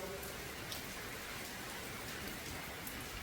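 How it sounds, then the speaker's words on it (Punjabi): Steady night rain pours down without pause, a dense continuous hiss of drops striking surfaces, with no voices. "ਆ ਗਿਆ ਮੀਂਹ ਆ ਗਿਆ ਮੀਂਹ ਆ ਗਿਆ"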